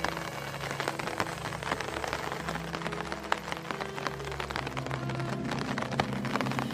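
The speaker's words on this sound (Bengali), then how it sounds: "কানে ভেসে আসছে শুধু ছাতায় পড়া ফোঁটা ফোঁটা পানির আওয়াজ" Raindrops patter on an umbrella in a cartoon soundscape, a dense continuous crackle of countless small drops with a low steady rumble beneath, no voices.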